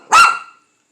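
A pet dog gives one short, loud, close bark indoors, cutting off quickly into silence.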